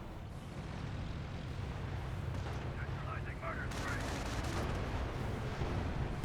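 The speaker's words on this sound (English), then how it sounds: "Looks like a pretty good shelling" Artillery shelling in a Company of Heroes match, a steady rumbling barrage of booms and blasts that runs throughout, with a commentator talking over it.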